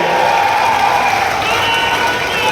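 Loud, dense applause and cheering from a large crowd at a political rally in Gwalior, a sustained wash of clapping with shouts mixed in, steady for the whole moment.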